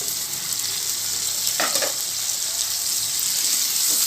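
Steady sizzling of tomatoes sautéing in a hot pan for village-style fish curry, with a brief scrape of stirring near the middle; close and fairly loud, no talking.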